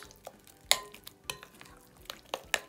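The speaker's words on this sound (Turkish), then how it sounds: "bakın hiç elimizi de kullanmadan kaşıkla karıştırıyoruz" A spoon stirs a dessert batter in a pot, giving soft intermittent clinks and scraping taps at an irregular rhythm, close but quiet, with no talking.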